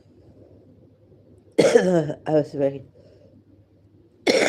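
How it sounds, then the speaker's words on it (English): A man has a cough, with sharp bursts breaking in at close range and a loud hack at the very end. A few spoken words come between the coughs. "Sorry, excuse me, now I have the cough."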